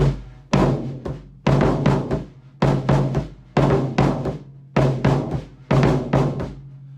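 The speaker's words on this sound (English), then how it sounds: "a lot of the time with these surdus, you would actually play with your hand as well" Close, loud surdo drum played with stick and hand, keeping a pattern of booming open stick strokes broken up by dampened hand-muted hits, repeating steadily.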